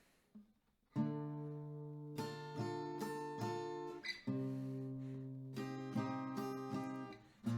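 An acoustic guitar strums the bar-chord progression of a song slowly, with full ringing chords struck about every second in a relaxed rhythm, close and unaccompanied.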